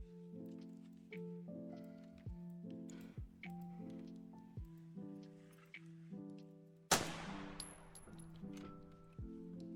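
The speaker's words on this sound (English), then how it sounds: "here's the M9 shooting sound" A single M9 pistol shot in a Roblox Studio FPS game: one sharp, loud crack with a short decaying tail, cutting through a steady run of soft melodic background tones.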